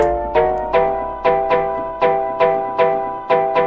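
A pitched-down chord sample in FL Studio plays a simple pop-rap melody of short, evenly spaced stabs, each decaying quickly, with no voices.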